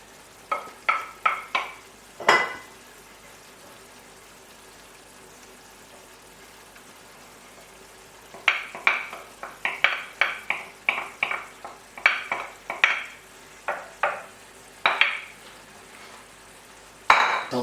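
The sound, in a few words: yellowfoot mushrooms sautéing in oil in a pan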